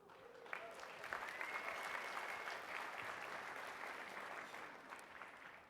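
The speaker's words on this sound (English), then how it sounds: "I'm glad you applauded for that" Audience applause at an education capacity-building workshop, a steady, fairly distant wash of many hands clapping that holds evenly for several seconds.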